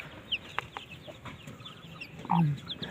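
Hens clucking quietly nearby with soft scattered calls, ending in a louder, fuller cluck; a faint background hum underneath.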